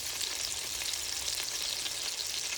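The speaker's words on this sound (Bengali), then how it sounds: "তারপর এই যে এটা রেগুর পাস্তা সস দিয়ে নেড়ে চেড়ে" Meatballs are stirred into Ragu pasta sauce in a pan, giving a soft, steady sizzle and bubbling at low volume, close by, with no voices over it.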